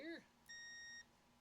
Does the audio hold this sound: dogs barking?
no